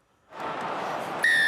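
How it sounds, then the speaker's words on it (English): A referee's full-time whistle at a rugby match in Turin ends the game: after a burst of loud crowd noise, a single sharp, sustained high blast cuts in near the end and holds over the cheering. "And there is the whistle for full time."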